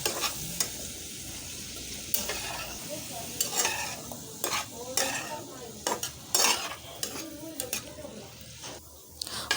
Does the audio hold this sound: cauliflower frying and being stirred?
yes